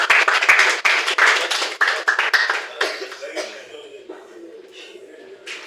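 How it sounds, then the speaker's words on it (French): A small audience at a school evaluation event claps in a brief, loud burst of individual claps that thins out and fades, with some shuffling and murmuring voices as it dies away. "on peut applaudir pour nos écrans"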